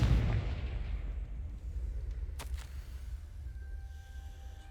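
A Confringo fire spell blast in Hogwarts Legacy: a heavy booming burst at the start that rolls off into a long, low rumbling decay, with a faint sharp crack midway.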